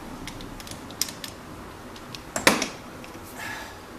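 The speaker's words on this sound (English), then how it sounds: "Ratchet." Ratchet wrench working on extensions around a power steering hose on a Honda engine, with scattered faint clicks and a denser, louder burst of ratcheting near the middle, otherwise quiet.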